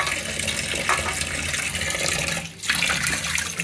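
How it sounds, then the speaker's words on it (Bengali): Hilsa fish washed under a running tap, a loud continuous splashing gush of water with a brief dip in flow midway, close up and with no voices. "ইলিশ মাছ দেখো ধুয়ে রাখলে রক্ত আবার বের হয় তিনবার চারবার ওগুলোকে ধুইতে হয়"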